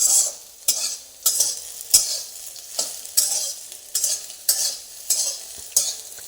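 Soybeans being stirred as they fry in a pan make a series of scraping, sizzling strokes about every half second. The rhythm is steady, close and fairly loud, and no one talks.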